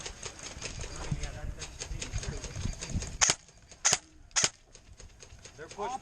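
Airsoft guns in a team game fire three sharp, separate shots close together, standing out from steady outdoor background noise while players talk.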